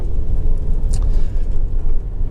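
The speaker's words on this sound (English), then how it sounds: "the engine has been running for quite some time now" A 2009 Honda Civic 1.8 i-VTEC SE five-door hatchback idles with a low, steady engine rumble, close and continuous, without talk.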